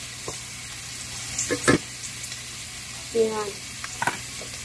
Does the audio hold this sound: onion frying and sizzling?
yes